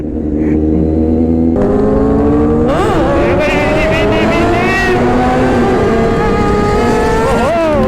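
A Kawasaki-style superbike engine revs hard and loud close by, pitch climbing and dropping in surges as the rider pulls a wheelie, continuous roar throughout.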